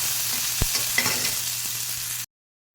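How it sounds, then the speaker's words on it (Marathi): Chopped onion and tomato fry in a hot pan as a dense, steady sizzle, with a couple of brief stirring knocks, before the clip cuts to silence near the end. "कांदा घालायचा टमाटो घालून द्यायचा भाजून द्यायचा त्यांना"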